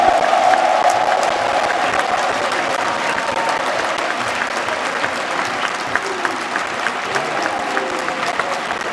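A political rally crowd applauds and cheers at a campaign speech, dense sustained clapping with occasional whoops holding steady throughout.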